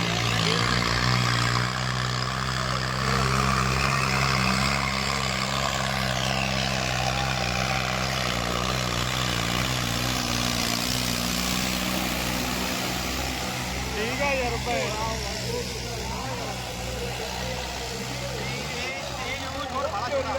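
A heavy tractor engine rumbles steadily and close, with a deep droning hum that strains slightly while pulling a trolley in a village tractor-pulling contest, as a voice talks over it.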